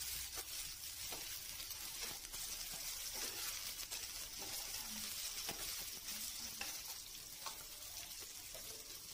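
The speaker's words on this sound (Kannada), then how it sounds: "ಹಾಕೊಂಡು ಚೆನ್ನಾಗಿ ಫ್ರೈ ಮಾಡಿ." A low, steady sizzle of cloves and a small piece of cinnamon frying in oil in a pan, faint and continuous with occasional stirring scrapes and no talk.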